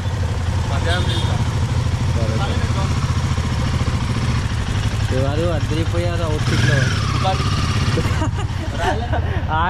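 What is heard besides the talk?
motorcycle engine running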